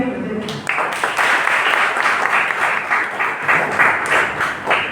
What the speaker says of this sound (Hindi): इसके बाद इनके लिए तालियां बजाई जाएगी।